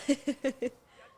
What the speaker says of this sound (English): The geese flew right over the tee pad.